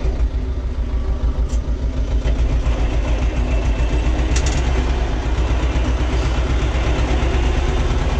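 Tractor engine droning steadily while driving across a farm field sown with lupin, loud and close with a continuous low rumble and no talking.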